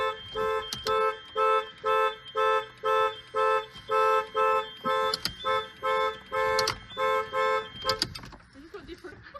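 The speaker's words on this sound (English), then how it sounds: "Symphony of honks." A Lexus LS430 car horn honks repeatedly in a rapid, rhythmic series of short blasts, loud and close, then stops and leaves quieter background rumble.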